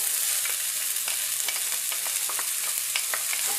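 Half a chopped onion frying in a pan after meatballs were cooked in it, producing a bright, steady crackling sizzle with small pops throughout, close and fairly loud, with no voices.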